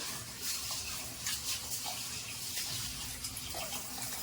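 Rice being washed under a running kitchen tap: a steady stream of water pours and splashes for the whole stretch, close by, with no talking.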